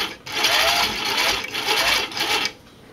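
A cover stitch machine runs under its cover stitch foot, sewing a hem on a Y-back racer tank top, giving a loud, steady mechanical whir for about two and a half seconds before it cuts off.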